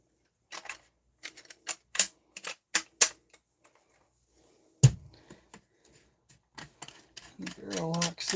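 A rifle barrel snaps and locks into place during gun assembly in a workshop: a single sharp, loud metallic clack stands out among scattered smaller mechanical clicks and taps, with some handling noise afterward.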